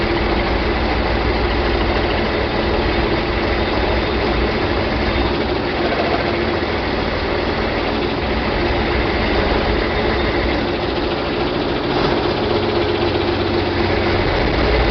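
A John Deere 4020 tractor engine runs roughly after air is bled from its fuel system, a loud, continuous low rumble with an uneven, choppy pulse throughout.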